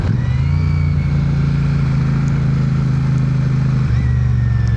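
A Royal Enfield motorcycle engine idles close by with a deep, even thump, then the throttle blips and the pitch shifts briefly before settling back to a steady idle.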